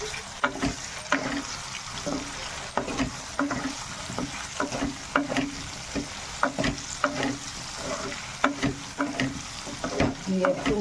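Spices with salt and Kashmiri chili frying in a pan for a potato, capsicum and paneer dish: a close sizzle broken by frequent sharp spatula-stirring clicks and scrapes in an irregular rhythm.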